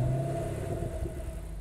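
A Mercedes-Benz engine in the racing game Test Drive Unlimited Solar Crown starts and settles into a low rumbling idle, brief and fairly quiet with a steady tone.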